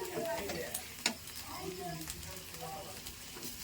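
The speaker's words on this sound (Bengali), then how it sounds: "মশলাটা এবার ভালো করে কষিয়ে নেওয়া হচ্ছে।" Spice paste masala with cumin powder being sautéed in a pan in a village kitchen, with a quiet steady sizzle, a sharp utensil scrape near the one-second mark, and faint voices in the background.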